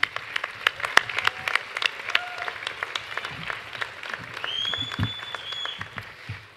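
Scattered clapping rises at a college graduation ceremony, with sharp individual claps at an uneven pace over a low crowd murmur and a brief whistle-like tone, building into a thicker burst of applause.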